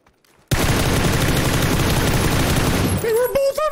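Dense, loud sustained automatic gunfire from the battle royale video game Taego, a continuous burst of rapid shots close up, ending with brief voices and a tonal in-game sound.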